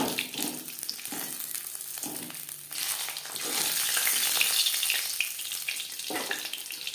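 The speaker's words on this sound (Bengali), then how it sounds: "উঠিয়ে নেওয়ার পর দ্বিতীয় ব্যাচে মাছ ভেজে নেব।" Rupchanda fish (pomfret) frying in a pan with oil, a continuous close sizzle that swells and fades with occasional stirring, no talk.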